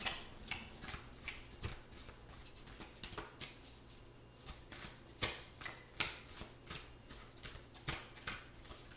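Oracle cards being shuffled by hand in a quiet room, a soft, close riffling with regular rhythmic slaps repeating roughly twice per second throughout.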